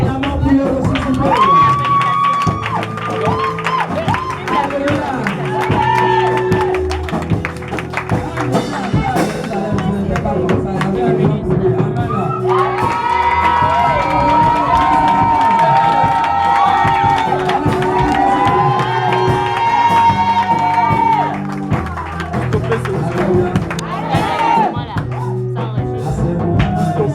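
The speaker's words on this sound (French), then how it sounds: "Acclamons pour le ressuscité." Church congregation cheering and acclaiming the risen Christ during a service, a steady loud crowd of shouts, whoops and voices with music running underneath throughout.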